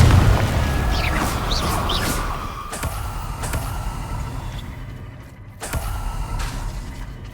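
A Confringo explosive spell goes off in Hogwarts Legacy: a heavy boom opens with a whooshing fiery tail, followed by a few sharp cracks and impacts over a lingering rumble.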